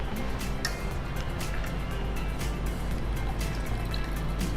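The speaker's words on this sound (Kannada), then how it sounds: "ಸ್ವಲ್ಪ ನೀರು ಹಾಕ್ಕೊಳ್ಬೇಕು." Water poured steadily into a glass of purple fruit juice mixed with basil seeds, a continuous soft splashing fill over a low background hum.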